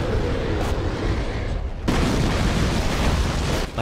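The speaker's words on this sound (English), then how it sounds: "Cannon fire from bombards and arquebusers also sound fantastic" Heavy bombard cannon fire in the Age of Empires IV game, with dense booming blasts and a sharp loud report midway over rumbling battle noise, echoing at a distance, with no talking.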